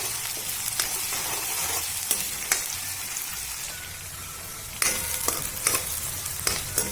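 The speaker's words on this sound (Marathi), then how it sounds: "गरम झाले की तेल त्यामध्ये 3 कांदे घालायचे आहेत मीडियम आकारचे बारीक चिरून." Finely chopped onions fry in hot oil in a kadhai, a steady loud sizzle broken by sharp scraping stirs, with no voices.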